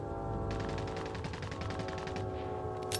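Rapid automatic gunfire in a squad-based shooter match, a fast run of sharp bursts lasting about two seconds over a steady game background, ending with one louder crack.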